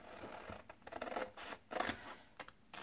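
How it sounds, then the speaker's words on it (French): Scissors cut through a paper template in a craft setting, a series of quiet, close snipping and rustling strokes in irregular bursts, with no talk. "une fois que j'ai mon gabarit, hop, et là, je coupe."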